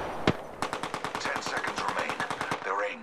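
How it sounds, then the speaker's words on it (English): Automatic weapon fire in the video game Apex Legends: one sharp shot, then a rapid, even burst of about twenty loud rounds, with a short game voice line at the end. "Taking fire! Hostile over there."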